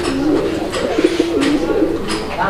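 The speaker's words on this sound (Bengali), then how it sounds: "এই যে দেখেন নরটা কি পরিমাণ ডাকাডাকি করে" A male pigeon cooing close by, a repeated low throaty rolling call over steady ambient noise, with no talk.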